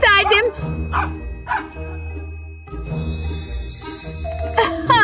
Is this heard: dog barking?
yes